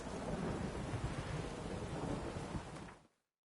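A video game thunderstorm brings a loud, continuous roar of rain and rumbling thunder that holds steady, then cuts off abruptly into silence near the end.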